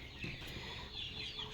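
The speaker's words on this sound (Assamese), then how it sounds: "সোণালী মুৰ্গী।" Golden chickens cluck steadily at a farm, a soft continuous fowl chatter with a brief louder call near the start, heard at moderate distance with no talking.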